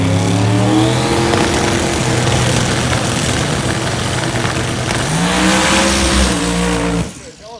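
A drag race car at Hot Rod Drag Week roars down the strip, its loud rising engine note joined by high-frequency tire shake before the car is shut off and the sound drops away abruptly near the end.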